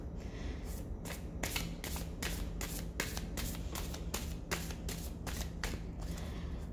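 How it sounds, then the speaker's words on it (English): A deck of oversized playing cards is shuffled in a rapid run of soft riffling flutters that continues steadily and sits close to the listener. "it's one of those decks with very big cards, so with my small hands, it's a little bit difficult to shuffle"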